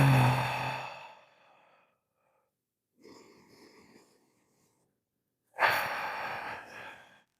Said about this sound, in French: Il suffit simplement de respirer plus longuement.